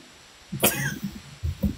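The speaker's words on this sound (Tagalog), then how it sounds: "Ay, umubo lang." A single sharp cough bursts out, followed by a few softer throat-clearing sounds and low murmurs in a quiet room.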